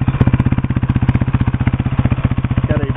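Steady idle of a 1990 Suzuki DR250S dual-sport bike with its stock exhaust, a close, regular single-cylinder thump that keeps an even rhythm throughout with faint rattling on top.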